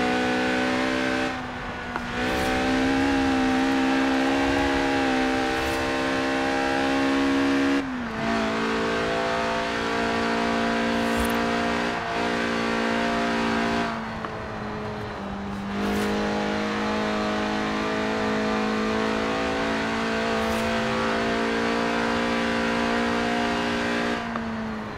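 A lightweight Lotus sports car with a 1.8-litre, 190-horsepower engine revving to 8,000 RPM in Forza Horizon 4 screams loud and close through repeated high-revving pulls, each climb broken by brief gear-change dips.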